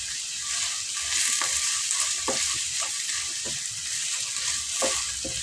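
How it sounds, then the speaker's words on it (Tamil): Onions sauté with a pinch of rock salt in a pan, giving a steady bright sizzle with scattered soft stirring clicks and scrapes throughout, fairly quiet and close with no voices. "கூடயே வெங்காயம் வதங்கிறதுக்கு கொஞ்சம் கல் உப்பு போட்டுக்கிறேன்."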